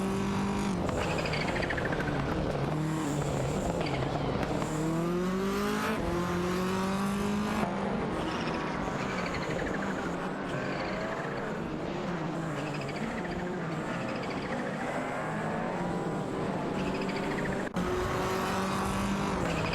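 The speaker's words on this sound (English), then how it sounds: "An exciting battle between a Toyota Celica and a Lancia Delta HF Integral for that spot." Race cars from an AI racing video game, including a Toyota Celica and a Lancia Delta HF Integrale, with engines revving and rising and falling in pitch through gear changes, continuous and fairly close, with occasional tire squeal.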